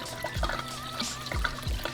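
Coolant trickles and drips out of a car radiator pulled from an RX-7 during a flush, an irregular close splashing with small plops and no talking.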